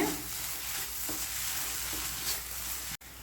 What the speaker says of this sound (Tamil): நல்லா கிளறி விட்டுக்கிடுங்க.